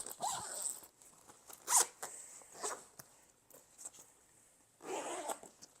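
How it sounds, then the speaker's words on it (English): A zipper on the back panel of a carry-on travel bag is pulled open in several short bursts, close and fairly quiet, with pauses and light handling rustle between strokes. "So to unzip it, let's maybe do the back panel first. And so you can easily unzip it."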